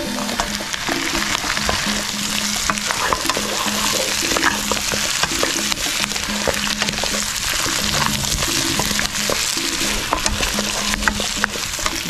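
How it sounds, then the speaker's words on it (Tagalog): Fried beef short ribs and onions sizzle and crackle steadily in a hot pan for adobo sa gata, with occasional stirring clatter and no talking. "Ilagay na natin yung pinrito nating short beef ribs kanina"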